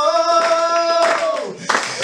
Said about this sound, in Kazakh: қаттырақ шапалақ соқсаңдар болмай ма?